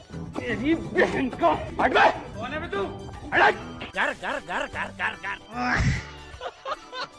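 Dog-like barks, yips and whimpers come in a quick, irregular run, close and loud, with a heavy thump near the end.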